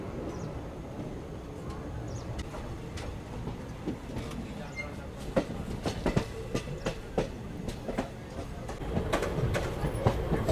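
Intercity Express train pulling into Sihora Road railway station in India, a steady rumble of wheels with rhythmic clicking over rail joints growing louder toward the end, with faint station ambience.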